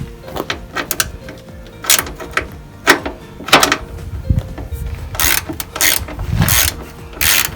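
A ratchet wrench turns a 10 mm screw on the bonnet hinge of a Citroen AX, giving bursts of sharp clicking in short irregular runs with pauses and faint handling knocks between, close up and without talk.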